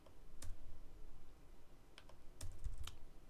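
Computer keyboard keys are pressed in a quiet room, a few scattered soft clicks and one quick cluster of taps, faint and close, with no one talking.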